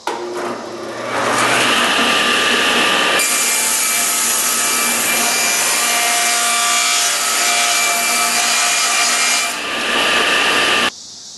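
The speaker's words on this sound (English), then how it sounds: "I'm going to speed things up a bit by cutting the piece to be sawn out on the scroll saw to size on a table saw." A table saw cuts a wooden toy piece to size, making a loud, sustained whirring cut of about ten seconds that starts and stops abruptly, with no talking.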